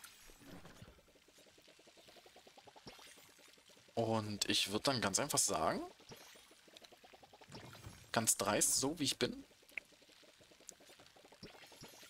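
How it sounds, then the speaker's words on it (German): Watering plants in the video game Palia, with liquid pouring sounds rising in two louder bursts of a few seconds each, alongside someone speaking German throughout. "Ich werde jetzt einmal bloß ganz kurz alles gießen."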